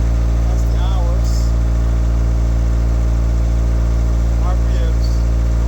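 A Bobcat skid steer engine idles just after starting up, a steady low, even drone that holds unchanged throughout, with faint brief voices in the background.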